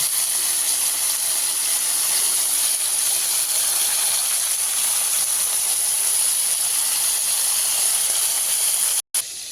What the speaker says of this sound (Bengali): গলদা চিংড়িগুলো ভাজা হচ্ছে।